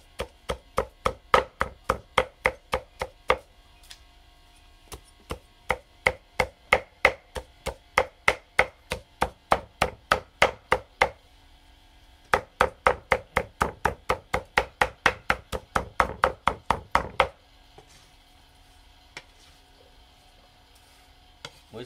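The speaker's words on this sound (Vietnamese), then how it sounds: "Muối xương mình băm tương đối rồi nhá." Pork bones are chopped with a cleaver on a cutting board, a long run of sharp, loud rhythmic chops in quick bursts separated by brief pauses.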